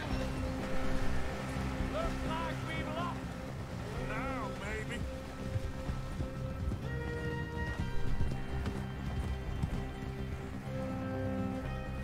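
Hooves of a horse ride steadily in Red Dead Redemption on Xbox One X, a continuous clip-clop under a dense game soundtrack and busy background sound, with a voice talking over it.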